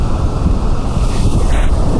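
Ocean waves washing in around a photographer's feet on a shore, a loud continuous rush of surf and water mixed with wind buffeting the microphone, close and unbroken.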